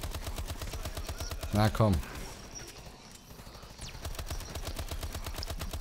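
Twin SAC3 submachine guns fired akimbo in the Advanced Warfare Exo Zombies mode, a steady rapid stream of close gunfire running under someone speaking German.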